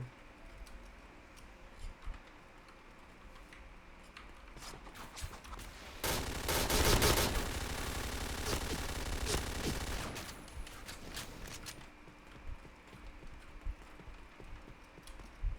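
Gunfire in the online shooter Point Blank: scattered shots and keyboard clicks build into a dense, loud burst of rapid automatic fire lasting several seconds, then ease back to sporadic shots and clicking.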